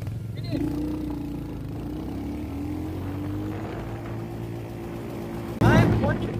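A 2025 Royal Enfield Hunter 350 motorcycle pulls away in first gear, its engine note climbing steadily and smoothly for several seconds before a sudden louder rush of wind and engine noise near the end.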